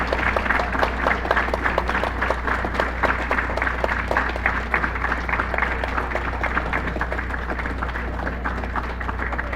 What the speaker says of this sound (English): Now let's continue clapping for them as they continue to walk up.